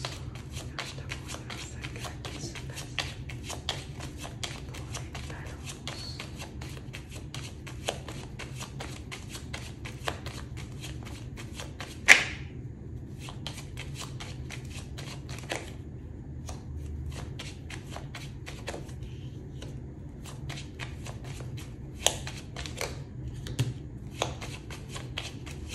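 A 32-card deck shuffled by hand, a long run of fast, crisp riffling flutters with a few sharper slaps and taps, close and fairly quiet, with no talking.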